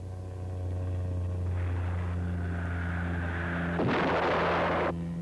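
A Lockheed Cheyenne helicopter launching a missile: a steady rotor and engine drone, then a sudden rushing roar that bursts out and cuts off about a second later.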